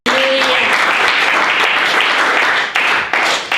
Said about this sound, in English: Oh, can we clap our hands to God for the Holy Spirit?